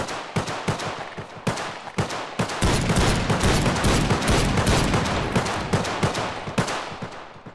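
Gunfire in the video game Garry's Mod, a run of sharp, evenly spaced shots that give way to a dense, continuous volley before separate loud cracks return.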